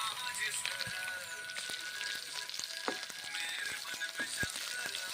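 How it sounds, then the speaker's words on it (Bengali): Green chilli and ginger sizzle and crackle steadily in hot oil in a pan, with occasional sharp scrapes and knocks from stirring, close and continuous. "ভেজে নিচ্ছি নেড়ে চেড়ে।"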